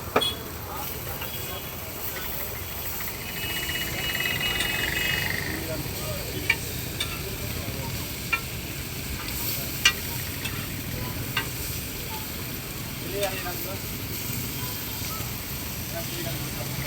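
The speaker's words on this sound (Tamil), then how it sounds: "அதை அப்படியே இந்த கல்லில் போட்டு ஃப்ரை பண்ணி சாப்பிட்றாரு" Fish frying on a hot stone with no spices gives a steady, fairly loud sizzle with scattered sharp ticks and pops throughout, and faint voices may sit underneath.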